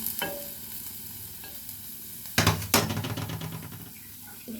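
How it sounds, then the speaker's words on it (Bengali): Onion and garlic fry in a hot wok, a steady soft sizzle broken by two sharp scraping stirs of a spatula partway through, with no talking. "এটা পেঁয়াজ আর রসুন আমি কড়ার মধ্যে আগেই দিয়ে দিলাম"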